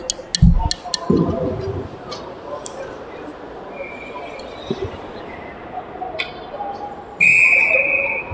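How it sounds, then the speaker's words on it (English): A referee's whistle shrills once near the end of an 18U youth ice hockey game, loud and brief, after a quiet stretch of arena ambience with scattered clicks and knocks; a commentator talks around it. "And whistle."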